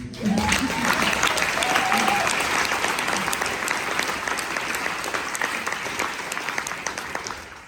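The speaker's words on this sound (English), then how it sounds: "Should we give them a big applause?" Sustained audience applause at a corporate summit, a dense, steady wash of many hands clapping that fills the room from start to finish and tapers only slightly toward the end.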